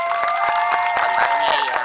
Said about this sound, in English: Let's give Michelle and Serena another round of applause.